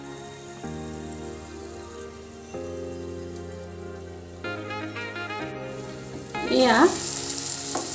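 Tomatoes and turmeric frying in a pan for an Assamese fish curry with bamboo shoots, giving a steady sizzle under background music that swells into a louder, hissing burst near the end.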